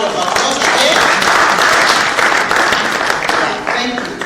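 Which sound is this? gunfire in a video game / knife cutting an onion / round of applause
round of applause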